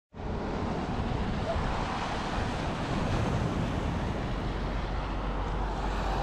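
Sea waves washing against rocks on the Arbroath seafront at high tide, a broad continuous roar of surf with wind buffeting the microphone, loud and close, no voices.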